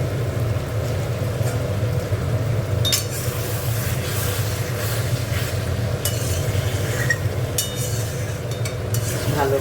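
Spiced cauliflower and potato curry stir-fries in a pan with a steady, dense sizzle, joined now and then by scraping strokes from a spatula.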